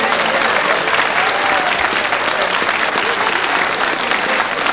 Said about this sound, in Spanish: Vale otro aplauso, claro que sí.